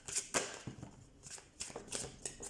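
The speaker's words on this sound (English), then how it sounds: "Cards are shuffled off camera as well as on camera" Oracle and tarot cards being shuffled by hand in a series of quick riffling, flicking bursts, close and fairly quiet, with no talking.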